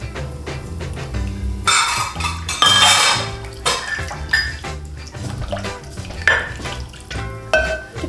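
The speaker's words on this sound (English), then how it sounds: "we just want to give that a good whisk" Garlic, ginger and sesame oil marinade whisked briskly in a bowl, rapid metallic clinking and rattling strokes up close, loud and busy with a few pauses.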